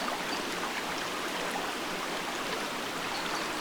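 A small stream flows past a little stone dam in a river, a steady, dense rushing and burbling of water that stays even and fairly loud throughout, with no talk.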